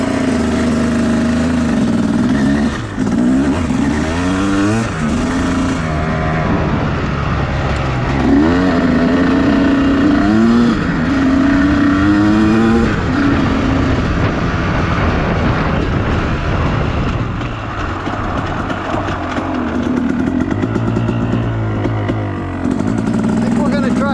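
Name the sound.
motorcycle engine running as the rider sets off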